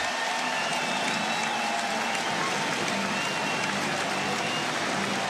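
Orioles fans at a Wild Card baseball game applaud pitcher Corbin Burns in the ninth inning against the Royals, a broad, sustained roar of stadium clapping and crowd noise that stays even throughout.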